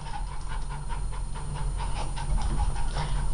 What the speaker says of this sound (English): They're cutting the field behind us, so that's gonna be the noise.